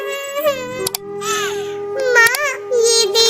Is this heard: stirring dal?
no